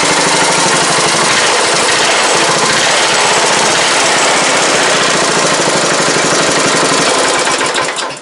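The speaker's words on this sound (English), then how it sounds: "And then this thing should run excellent." Lifted Craftsman mud mower engine roaring steadily at high revs, loud and close with a harsh rattling buzz throughout, no talk over it, cutting off at the very end.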